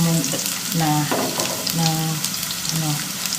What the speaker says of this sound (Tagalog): inisa ko na yung garlic kahit hindi pa masyadong mainit ang ating frying pan para mag-flavor siya ng garlic guys